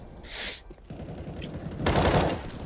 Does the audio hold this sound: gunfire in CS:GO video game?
yes